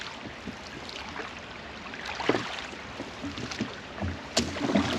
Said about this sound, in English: So we took advantage of this peacefulness by rowing back to the lock rather than turning on our outboard again.